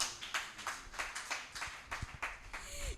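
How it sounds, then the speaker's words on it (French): Scattered hand clapping from a small audience at a French voice-coaching graduation finale, with uneven claps tapping out a loose rhythm and a brief vocal tone near the end. "Est-ce qu'on peut applaudir, s'il vous plaît?"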